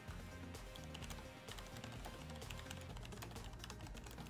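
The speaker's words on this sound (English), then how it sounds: "Someone wants you to do some typing on it just to give a sense of the sound." Rapid, continuous typing on a Logitech G513 Carbon mechanical keyboard held close to a microphone, with dense quick key clicks and bottoming-out thuds at a steady fast pace.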